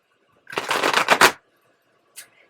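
A quick riffle of tarot cards being shuffled, close and crisp, followed after a pause by a brief flick of cards.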